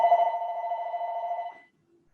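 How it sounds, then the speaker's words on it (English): A mobile phone rings with a steady electronic tone for about a second and a half, then stops, leaving silence. "let my phone ring out"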